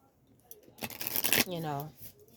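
Oracle cards from a Moonology deck being shuffled, a burst of papery riffling and flicking, with a voice speaking just after.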